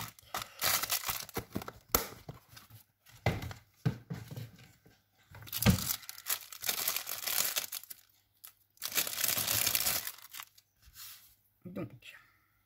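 Thin double-sided tape being pulled, crinkled and handled during paper crafting for a scrapbook album page, crisp crackling bursts that come and go over several seconds, close, with someone talking in between.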